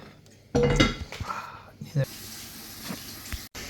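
Coconut rice turned out of a small pan into a dish, with clattering metal and utensil knocks, a few clinks and scrapes of cookware, and a soft hiss in the background.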